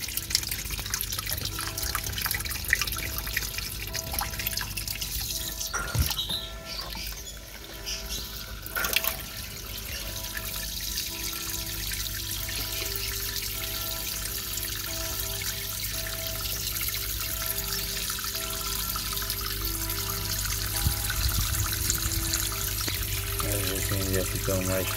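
Water trickles steadily over potted plants to cool them in the heat, a continuous soft splashing with occasional drips against a constant background.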